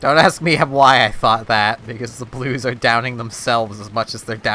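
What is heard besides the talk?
None of the usual background noises is heard.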